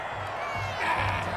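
A home crowd at AT&T Stadium cheers a referee's call in the Madden NFL 21 video game, a brief swell of crowd noise and whoops under a commentator's voice.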